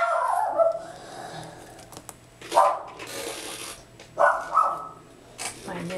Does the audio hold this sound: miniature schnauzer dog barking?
yes